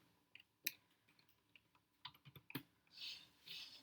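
Quiet typing on a computer keyboard while entering Python code: a few scattered soft key clicks, then a short cluster of taps, closing with a couple of brighter clicking sounds.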